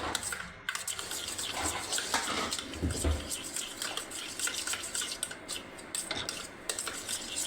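Tomato ketchup being stirred into a burger mixture in a bowl, giving a steady, continuous wet scraping and churning close by, with occasional clinks of a utensil against the dish and no talk.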